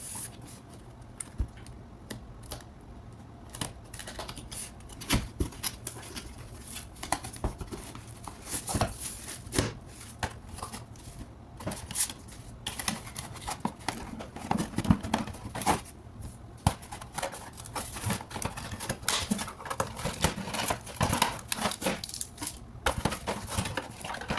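A Fawahah air humidifier is unboxed, with quiet cardboard rustling, plastic crinkles and scattered sharp clicks and taps from close handling.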